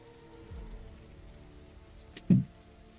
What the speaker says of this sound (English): Oh, of course it's raining.